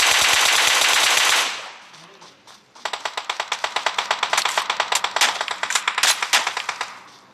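Rapid bursts of automatic gunfire from the mobile battle-royale game PUBG Mobile, a sustained loud hiss giving way to a fast, steady string of close shots over about five seconds.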